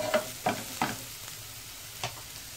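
Onions frying in a small amount of oil in a pan, a soft low sizzle broken by several quick stirring scrapes, fairly quiet and close with no talking.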